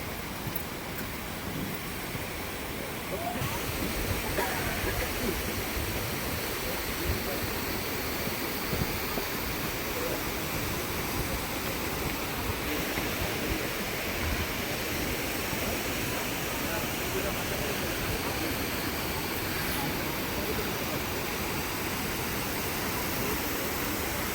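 Water rushing steadily near Sheshnag lake along the Amarnath Yatra trail in the mountains, a loud, constant broadband roar filling the whole stretch with no breaks.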